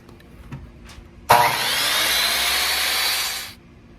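A saw cuts through a wood square for a Pikler triangle, starting abruptly after a couple of soft knocks and running as one loud, close, steady cutting noise for about two seconds before stopping.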